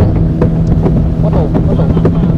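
A boat travels fast across Lake Sentani in Papua, its engine a loud, steady drone with wind buffeting the microphone and water rushing past throughout.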